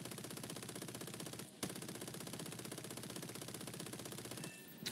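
Aircraft machine guns firing in a biplane combat video game: a fast, even rattle of automatic fire that runs almost nonstop, broken by one brief pause, loud and close with no talking.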